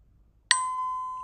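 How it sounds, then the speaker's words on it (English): A single bright ding from a notification bell sound effect for a subscribe graphic, struck once with a sharp attack and a clear ringing tone that sustains evenly to the end, heard alone. "We want that ding to come in a little faster."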